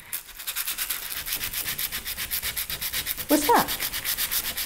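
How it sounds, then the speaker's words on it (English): Sandpaper rubbed back and forth over the dark areas of a watercolour painting: a steady, rhythmic scratchy swishing at close range, with a brief voice about three seconds in. "I rubbed the sandpaper onto the darkest areas of my painting,"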